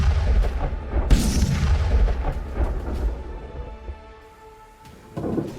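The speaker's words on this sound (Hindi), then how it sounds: "लटस्क शहर है, जहां रूस मिसाइल्स ताबड़तोड़ हमले कर रहा है। आसमान से गिरते गोलों से पूरा इलाका दहल रहा है।" Russian missile strikes and shelling hit the city of Lutsk in north-western Ukraine, heard as heavy low booms and rumbling blasts with sharp impacts, loud and rolling, then fading to quieter rumble before another burst.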